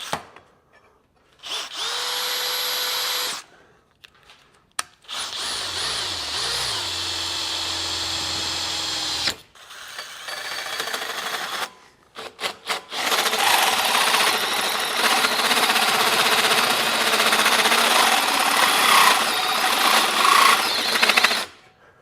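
A Hercules bimetal hole saw on a power drill cuts through material in several separate bursts: short high whining runs with pauses, then a longer, rougher grinding cut as it works through, close and loud.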